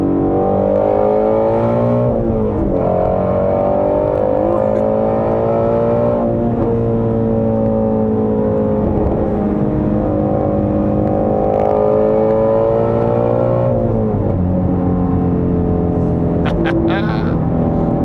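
A 2017 Ford Shelby Mustang GT350R with a 5.2-liter engine drones loudly and continuously from the cabin, with a few rising surges as it revs. Someone talks over the engine throughout.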